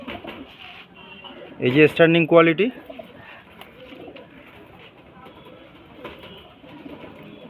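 A pair of young pigeons coo in a short loud burst near the microphone, while someone talks before and after over a low background hum.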